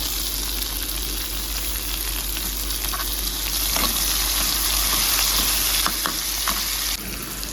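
Onion, green chili and tomato with curry leaves fry in a pan, a steady, dense sizzle running throughout at close range with a few brief clinks of stirring, no voices.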